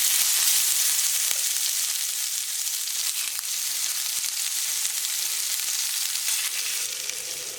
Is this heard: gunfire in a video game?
no